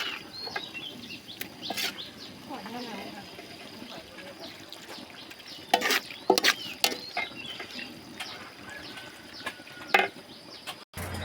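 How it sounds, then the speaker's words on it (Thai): Laab being stir-fried in a pan at home, with a faint sizzle under scattered scrapes and clatters of the utensil against the pan, while someone talks over the cooking. "นี่ขัวให้มันสุกก่อนเด้อ"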